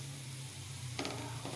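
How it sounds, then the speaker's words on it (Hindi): Sliced onions sizzle and fry in a pan until golden, a steady close crackle with soft stirring scrapes near the end. "प्याज हमारी गोल्डन हो गई है, अभी मैं थोड़ा सा इसे और फ्राई करूँगी"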